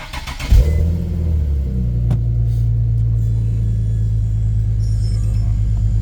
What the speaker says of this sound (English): You can actually start the car too.